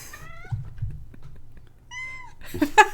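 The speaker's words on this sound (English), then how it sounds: "We had let in this cat who screamed at us" A cat meows a few times, short upward-bending cries close by, with quiet low thumps and a brief harsher yowl near the end.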